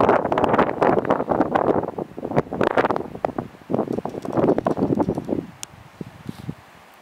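Gusty wind buffets the microphone outdoors, loud rumbling bursts rising and falling for several seconds before easing into a quieter stretch.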